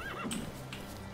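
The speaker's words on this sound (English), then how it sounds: "Stay away from Roach" Horse neighing in the video game Witcher 3, a short close whinny with a rising and falling squeal, followed by a few soft hoof clops, alone and fairly quiet.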